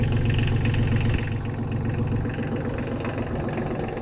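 A Kubota L235DT tractor's diesel engine idles steadily up close with a rhythmic low knocking chug, dropping slightly in level after about a second.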